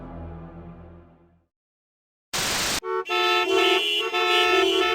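Car horns honk in heavy traffic in the You Don't Know Jack video game. After a brief stretch of fading noise and silence, a burst of noise gives way to several loud, overlapping horn blasts.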